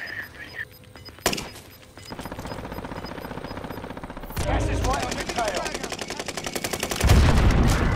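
Rapid automatic gunfire rattles in Call of Duty: Modern Warfare, first as a single loud shot, then as sustained bursts that grow louder and denser, with heavier blasts near the end.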